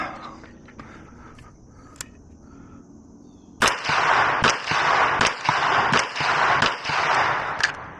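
Several sharp rifle shots fired through a budget Primary Arms red dot sight, starting after a quiet lead-in, then coming in quick, loud succession at close range outdoors.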